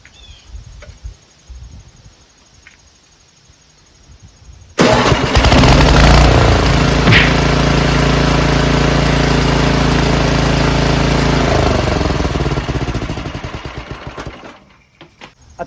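A snowblower with an electric starter running on 110 AC, quiet clicks and handling first, then the starter cranks and the engine catches into a loud, steady close running roar that fades and shuts off near the end.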